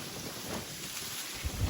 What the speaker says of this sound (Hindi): मतलब बहुत ही तेज हवा चल रही है।